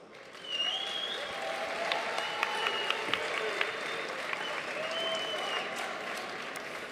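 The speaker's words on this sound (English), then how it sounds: "Please give them a big round of applause." Steady crowd applause fills the hall for the two finalists at a Yu-Gi-Oh! Championship Series event in Milan, dense and sustained with a few sharper claps and faint voices mixed in.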